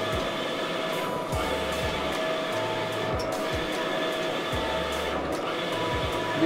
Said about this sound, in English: it dries the image or whatever medium I'm using, it'll dry it. So when it come out, it'll be good and dry so the ink won't bleed